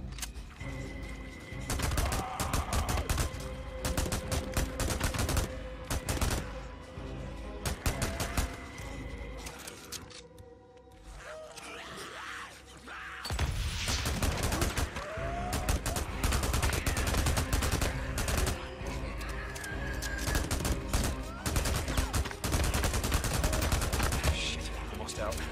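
Dense bursts of gunfire from a zombie-killing spree in the video game Days Gone, loud and nearly continuous with rapid shots and a brief lull midway. Voices occur faintly beneath the shooting.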